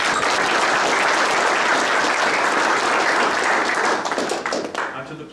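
A large crowd applauds at a World Billiards final, loud sustained clapping filling the room before thinning and fading toward the end.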